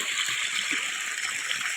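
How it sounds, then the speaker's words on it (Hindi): Irrigation water pouring into a farm field, a steady broadband rushing and gurgling flow, fairly close and continuous with no pauses. "पानी आ रहा"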